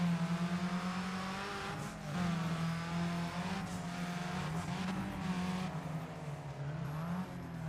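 Race cars roar around the track in Need For Speed: ProStreet on Xbox 360, one close engine holding a steady droning pitch while others rise and fall nearby, with faint tire squeals mixed in.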